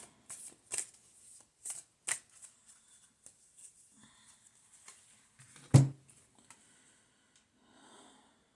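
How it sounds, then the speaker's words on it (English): A deck of cards is shuffled in several quick riffling bursts, close and crisp, followed by a louder thump and quieter rustling. "Give it a good shuffle."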